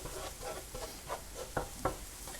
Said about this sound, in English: So we're just cooking the flour for a minute